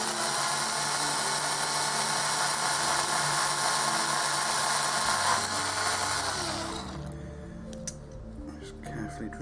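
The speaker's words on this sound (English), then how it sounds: "Just carefully drill that hole out." A power drill whirs steadily at close range for about six seconds while boring out a hole, then spins down and stops, followed by a few small clicks and handling noises.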